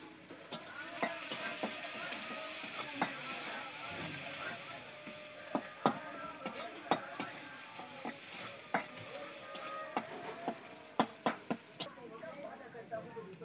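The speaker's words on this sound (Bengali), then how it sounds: "এবার পেঁয়াজ কুচি আমরা একটু ভেজে নেব" Chopped onion frying in a pan with bay leaves for chicken kosha, a faint continuous sizzle broken by sharp clicks and scrapes of stirring, repeating and growing busier toward the end.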